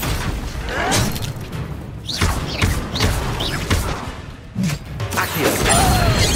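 Bombarda blasting spell impacts in Hogwarts Legacy, a series of thumping blasts and crashes with whooshing swishes between them, mixed with other spell effects and a low rumble, fairly loud throughout.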